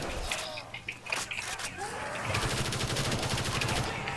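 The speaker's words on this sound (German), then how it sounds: "Boah, ich habe aber beide angeschossen." Rapid gunfire from a custom zombies map in a first-person shooter game, starting with scattered shots and then a sustained, close burst of automatic fire that runs to the end; a voice is briefly heard.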